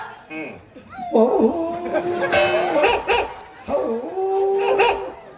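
A dog barks and yips repeatedly close by, mixed with human voices and a bit of laughter.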